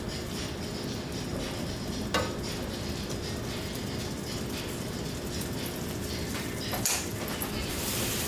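Calabaza pumpkin cooking in a pan with onion and garlic hisses in a continuous close sizzle, broken by a couple of brief clanks of a utensil against the pan.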